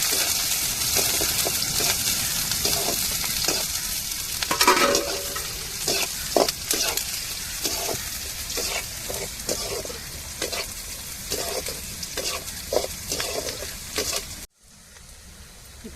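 Onions and mustard seeds fry in a pan for a parrot fish puttu dish: a steady close sizzle with repeated scraping stir strokes, then the sound cuts off abruptly near the end.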